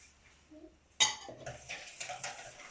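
Egg and sugar being mixed in a bowl for pancake batter, a sudden clatter of a utensil against the bowl followed by several close, quick scraping and clinking strokes, with faint voice sounds before.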